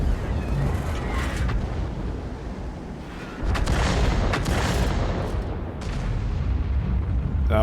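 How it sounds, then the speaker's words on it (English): SPG artillery bombardment in a tank video game, continuous rumbling booms and distant impacts forming a dense, roaring bed of explosions with a few sharper blasts. "He's just bombarding."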